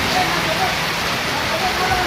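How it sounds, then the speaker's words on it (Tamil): Heavy rain pours down steadily as a dense, even hiss of broadband noise, loud and constant throughout with no pauses. "பயங்கரமான மழை பெஞ்சிட்ருக்கு. நல்ல மழை பெய்யுது."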